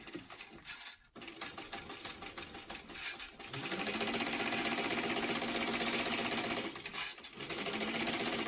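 Sewing machine stitching a weekender travel bag, running in a loud steady buzzing hum with brief pauses between bursts of stitching.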